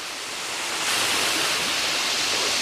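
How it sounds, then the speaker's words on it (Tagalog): Waterfall at Port Barton, a steady broadband rush of falling water close by, swelling slightly louder after the first second and then holding constant with no voices. "So, isa ito sa mga falls ng Port Barton."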